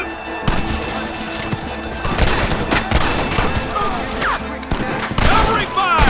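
A shootout in Red Dead Redemption with army soldiers: loud volleys of gunfire crack in dense bursts throughout, mixed with booms and impacts, while voices shout under the shooting.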